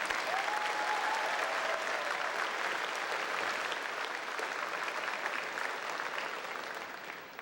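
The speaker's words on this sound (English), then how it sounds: "Please give a round of applause for our faculty for helping our students charge towards excellence" A graduation ceremony audience applauds the faculty, with sustained, dense clapping from a large crowd that holds steady and then slowly tapers off.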